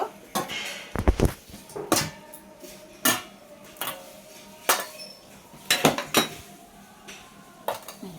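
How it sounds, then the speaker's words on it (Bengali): Plates set one after another over dishes of cooked food at home, making a series of sharp ceramic and metal clinks and clatters, close and fairly loud, spaced irregularly with brief quiet between. "এই যে ঢাকা দেব একটা পর একটা করে ঢাকা দেব"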